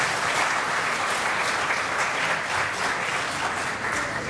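A theatre audience applauds continuously, a dense, steady wash of clapping from many hands that stays even and close throughout with no voices rising above it.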